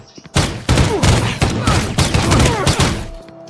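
Shotgun fire in a horror video game comes as a loud, dense cluster of blasts and heavy impacts packed close together over a few seconds, with no talk over it.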